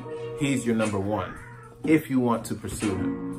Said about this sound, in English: please excuse my cats